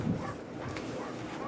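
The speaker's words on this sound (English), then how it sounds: "Sorry if you hear my dog barking in the background." A beagle in the background of a quiet indoor room, giving a few faint, muffled barks and whimpers that sit low and distant for about a second and a half.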